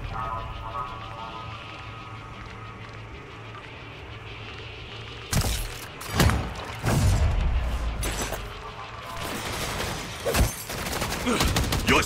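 Rapid bursts of gunfire from a zombies mode match in Modern Warfare 3, loud automatic volleys and booming shots breaking in after a quieter stretch, repeating in clusters toward the end.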